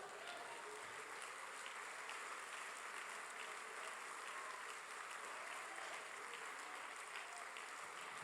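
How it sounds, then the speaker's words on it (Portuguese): A church congregation applauding the Lord during a sermon, a faint, even wash of many hands clapping that holds steady throughout, distant and continuous with no voices on top. "Você pode aplaudir ao Senhor?"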